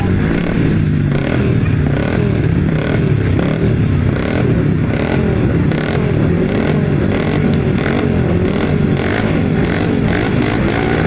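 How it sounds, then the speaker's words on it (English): Several 250cc grasstrack racing motorcycles idle and rev together at the start line of a grasstrack meeting, a loud continuous rumbling engine roar with uneven throttle blips throughout, no voices. "Lining up then for what could be another intriguing race of the 250 with Chad Wordsfeld and Tim Gregg in action."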